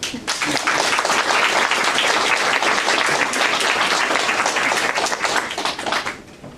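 An audience claps steadily to welcome a speaker at a lecture, dense sustained applause that fades out near the end.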